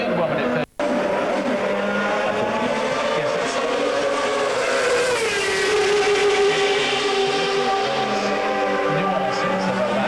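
V10 Formula 1 cars racing at the 1997 Australian Grand Prix, high-pitched engines screaming and rising through gears as cars pass, loud and sustained with commentary talk running underneath.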